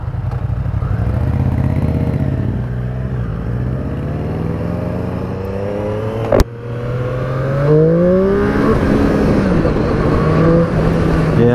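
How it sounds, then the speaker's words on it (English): A 2021 Triumph Street Triple RS motorcycle on full throttle, its engine note climbing loudly through repeated rising pitch sweeps, with a sharp gear-change break midway and heavy wind rush throughout. "I was way on the throttle then and it came back down"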